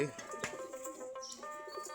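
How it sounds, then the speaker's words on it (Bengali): Giribaj pigeons coo softly near their coop at dusk, with low repeated calls and a few brief chirps over a steady background hum. "আমাদের গিরিবাজ কবুতর"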